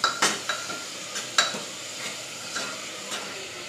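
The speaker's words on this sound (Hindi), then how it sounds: "अभी मैं इसमें ये बीन्स डाल दूंगी। ये देखिए, मैंने इसके अंदर बीन्स डाल दी हूँ।" Beans tossed into spice masala frying in a pan, with a series of soft stirring scrapes and sizzling bursts, close and moderately quiet, no voices.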